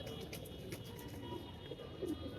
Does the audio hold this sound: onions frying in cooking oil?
no